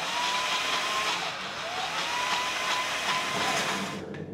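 A blender whirs steadily and loudly for about four seconds, puréeing a large batch of fresh basil pesto, then cuts off near the end.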